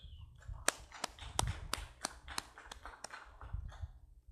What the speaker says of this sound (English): Let us please give Mrs. Akiyak a round of applause.